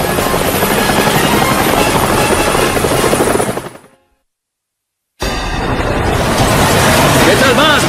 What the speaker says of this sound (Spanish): Helicópteros en el aire.